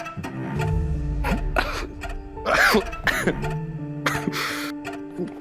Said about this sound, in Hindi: थोड़ी खांसी आ गई थी